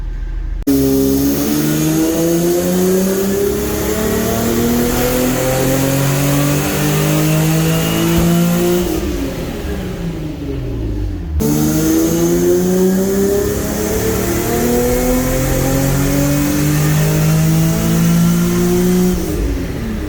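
A Nissan G35 coupe with a swapped-in stock VQ35HR engine on its factory tune, a little over 100,000 miles, revs on a dyno. Two long, loud pulls climb steadily in pitch, each cutting off briefly before the next begins.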